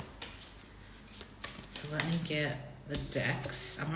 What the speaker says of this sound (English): So let me get the decks. I'm already kind of half shuffling.